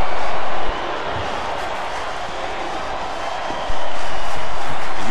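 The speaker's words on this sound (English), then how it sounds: "they're chanting, "We want tables."" Dense, roaring crowd noise from a packed wrestling event audience, loud and steady throughout, with a chanting crowd swell; no clear rhythmic chant pattern stands out, and no one speaks over it.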